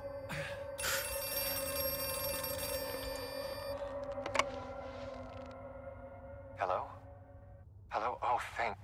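A telephone ringing in the horror video game Outlast II, a sustained electronic bell tone holding for several seconds, then fading as game noises and muffled voices break in near the end.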